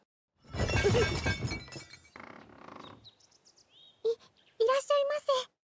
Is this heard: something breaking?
yes